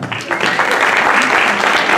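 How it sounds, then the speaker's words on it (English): A symposium audience at an overdose and drug awareness event in Seaside, California breaks into a round of applause, a dense steady wash of many hands clapping together for the full two seconds with no voices over it. "Can we get a round of applause for that?"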